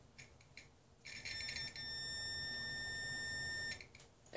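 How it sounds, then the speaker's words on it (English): Electronic test beep from a motorcycle brake light switch as its spring is pulled, a faint steady high-pitched tone lasting a few seconds over low background noise. "when I pull the spring as if the brake was being depressed,"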